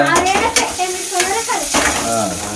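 Food frying in oil in a pan while being stirred, a loud close sizzle with scraping stirs of a utensil against the pan repeating every half second or so, with no talk.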